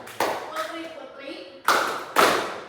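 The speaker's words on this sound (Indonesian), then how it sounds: "Tepuk tangan" A small group in a counselling session claps in two short bursts, sharp close slaps separated by a pause with a voice speaking between them.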